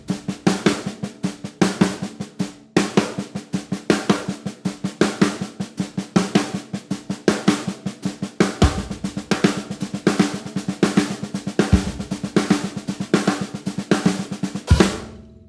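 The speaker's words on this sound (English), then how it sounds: "That's the 6-stroke roll." A drum plays a fast, steady six-stroke roll in a repeating triplet pattern, with regular accents and a few deeper hits, close and alone.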